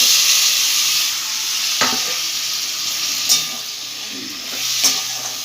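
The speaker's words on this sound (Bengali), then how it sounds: "এই মশলা দিয়ে ভালো করে আলুটা কষাবো" Fried potatoes being stirred and sautéed with spice paste in a pan, with a steady close sizzle and several distinct scraping knocks of the spatula.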